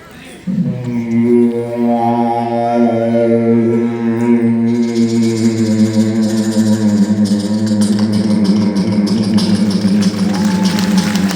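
A single voice imitates an airplane with a long, sustained droning tone, then shifts into a noisier, rushing train-like sound, loud and close.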